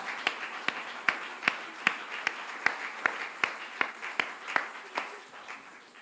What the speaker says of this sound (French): Est-ce qu'on peut faire un tonnerre d'applaudissements pour l'inviter à prendre la première place?